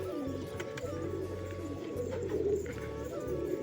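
Pigeons coo softly in a steady low murmur, with a continuous low hum underneath and no talking.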